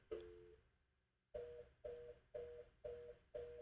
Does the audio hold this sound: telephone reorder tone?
yes